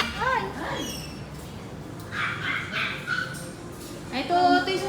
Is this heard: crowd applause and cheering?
no